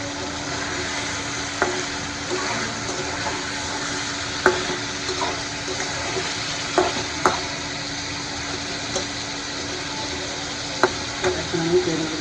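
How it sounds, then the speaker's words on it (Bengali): Fish sautéing in a hot pan, a steady close sizzle broken by scattered sharp clicks and taps of a utensil stirring, with no talking. "তো মাছগুলো আমি একটু আগে কষাই নেব।"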